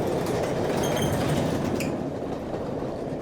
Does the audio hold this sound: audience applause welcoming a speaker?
no